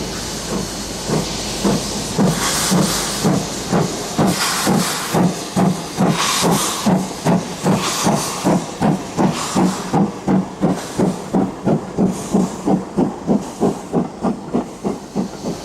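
GWR King class steam locomotive 6018 King Henry VI standing at Shrewsbury station, a steady loud hiss of escaping steam with a rapid rhythmic pulsing throughout, no voices.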